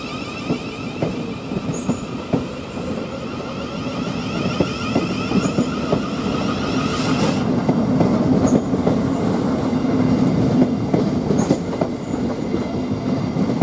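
A Class 700 electric multiple unit pulls away from Three Bridges railway station running late on a service to Horsham, a steady rumble of wheels and motors building gradually and staying close throughout, with faint clicking of rail joints.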